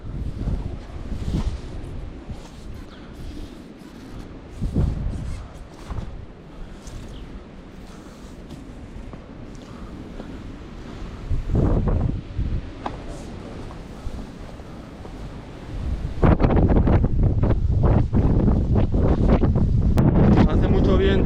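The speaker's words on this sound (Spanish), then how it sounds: "Hace mucho viento." Strong gusts buffet the microphone of a GoPro camera outdoors in Asturias, with low booming rumbles rising and falling and growing louder and more constant toward the end, while people speak at times.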